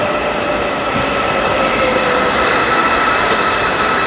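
A train at a railway station, heard as a continuous loud rumble of rail cars with steady mechanical whine and faint squealing tones throughout, no talking.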